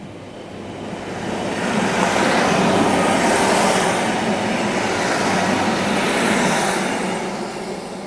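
A train passes through Dawlish station by the sea, a steady broad rumble that swells over several seconds and holds before easing, with no talking.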